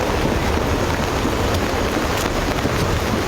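Heavy rain pours steadily in Samba district, Jammu and Kashmir, a dense, loud, continuous hiss with no pauses and no voices.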